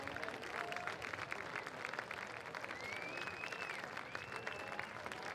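A crowd claps in person at the Purdue Grand Prix kart race after the checkered flag, steady, dense clapping held at a distance, fairly faint and continuous with no voices on top.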